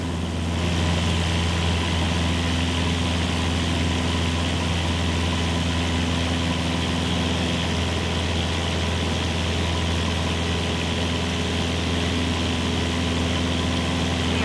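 A Cessna 172 engine drones loud and constant during takeoff in Microsoft Flight Simulator 2024, a steady low propeller hum with no change in rhythm throughout.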